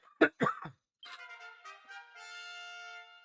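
A person gives two sharp, close coughs, followed by a short pause and then soft game music.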